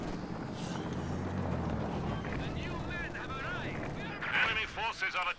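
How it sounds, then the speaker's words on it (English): Video game gunfire from a Su-76 firing on a StuG in a World War II strategy match, heard as a dense sustained rattle of shots and explosions beneath continuous commentary talk. "The Stug is coming up against sustained Su-76 fire."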